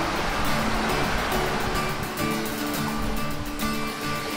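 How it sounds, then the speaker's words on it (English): Slap Rinka waterfall in Logar Valley, Slovenia, pours down in sheets, a loud, constant broadband roar of rushing water heard up close with no talking. "this waterfall behind me here is called Slap Rinka, or Rinka Waterfall"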